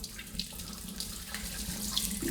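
Liquid, aromatic spirits, streams steadily into the boiler of a home moonshine still, a continuous close splashing rush with no pauses and no talk.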